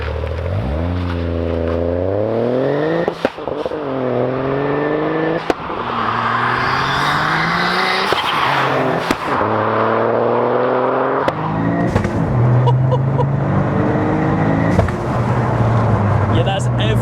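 A 500bhp Toyota GR Yaris driven hard, its engine climbing through repeated rising sweeps with sharp breaks at each gear change, loud and close, with occupants talking over it.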